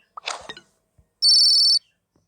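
A phone gives one short, bright electronic ring burst in a quiet room, following a brief throaty vocal sound and a faint tap.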